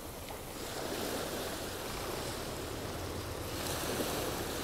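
Sea waves wash steadily on a sunny day by the shore after boat angling, a broad continuous surf hiss mixed with wind noise, fairly faint with a slight swell toward the end.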